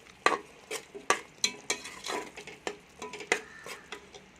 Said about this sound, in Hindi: सब चीज़ों को अच्छी तरह मिक्स कर लेंगे।